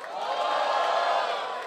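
A rap battle audience at an MDM O Desafio freestyle event roars and whoops for a rapper, a dense, steady wall of crowd noise that swells and holds for under two seconds.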